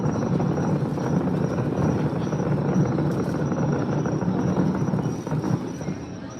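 A fireworks finale at night rumbles as a dense, continuous barrage of distant booms and crackles, loud and sustained, easing slightly near the end.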